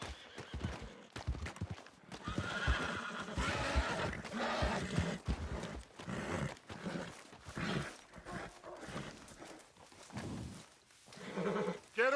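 A horse whinnies loudly while hooves clip-clop nearby, mixed with shouting voices and movement in a busy, energetic scene from the video game Red Dead Redemption 2.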